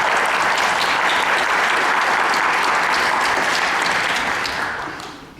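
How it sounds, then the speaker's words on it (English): Loud, sustained applause from the audience at a District 8 evening forum, thick continuous clapping that fills the room and then fades away near the end. "big round of applause for everybody who made time to be here this evening"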